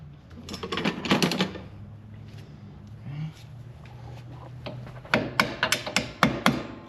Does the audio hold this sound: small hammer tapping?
yes